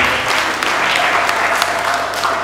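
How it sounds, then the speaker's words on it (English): Wedding guests applauding the newly married couple, a dense steady clatter of many hands clapping close by throughout. "Let's clap for them."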